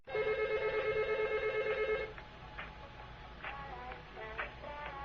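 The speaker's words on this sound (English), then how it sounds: "As you can see, the phone is ringing." Office desk phone ringing with a bright electronic trill for about two seconds, followed by quieter intermittent beeps and tones at moderate distance.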